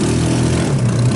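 A salvaged 150cc GY6 engine on an off-road go-kart side by side idles close and loud, a steady low rumble with a slight rise near the end.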